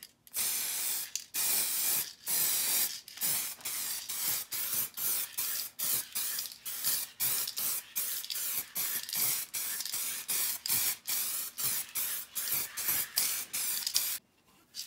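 An aerosol spray can lays a coat onto car headlamps in many short bursts of hissing spray, each a second or less with brief gaps, loud and close, no talking.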